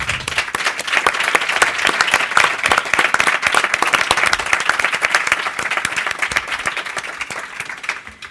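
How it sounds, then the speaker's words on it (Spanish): A large audience at a film panel event gives loud, sustained applause to welcome the panel guests, dense clapping holding steady for several seconds and fading slightly near the end. "Yo quiero que recibamos a todos nuestros invitados con un fuertísimo aplauso."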